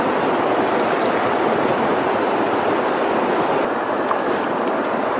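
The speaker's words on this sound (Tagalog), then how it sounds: "Nagsasakay-sakay kami sa bangka, mga bossing." A small boat motors through floodwater over a flooded countryside road, a steady rushing wash of water and engine noise close to the microphone, with wind buffeting throughout.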